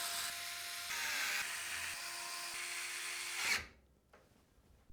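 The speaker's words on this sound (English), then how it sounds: "Then we can secure the motherboard to the case with 9 of the screws with a little lip around the outside." Electric screwdriver driving screws to secure a motherboard in a Thermaltake Ceres 330 TG ARGB PC case, a close steady whirring run of several seconds that cuts off abruptly, followed by a faint short buzz.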